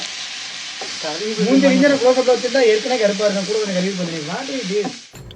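Onions fry in a pan with a continuous bright hiss that runs throughout, while someone talks loudly and close over it.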